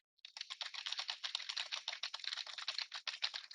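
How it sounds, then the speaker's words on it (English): Rapid, light clicking of fingers typing on a computer keyboard, a quiet close patter of uneven keystrokes that runs continuously for a few seconds. "notice how you can hear the keyboard"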